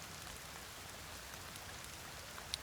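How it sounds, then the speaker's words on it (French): Rain falls in the survival video game The Forest, a faint, even hiss of drops on surfaces continuing throughout, with a small tap near the end and no talking. "Et non, il pleut."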